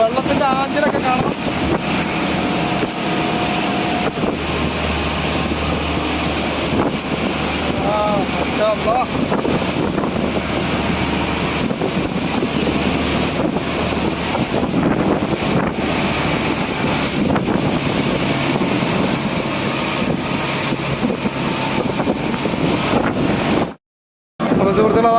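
A boat named Al Murshid speeds across open water during a Meeladunabi celebration, with steady loud wind buffeting and rushing water throughout, and a brief dropout near the end.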